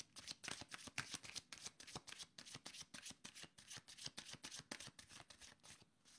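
A deck of cards being shuffled repeatedly in quick rhythmic bursts of riffling, close and quiet, with no talking.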